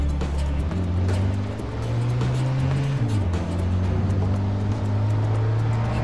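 A car accelerating at full throttle in Mafia II, its engine droning steadily with a rising pitch that shifts as it climbs through gears, loud and close over road and wind noise, no speech.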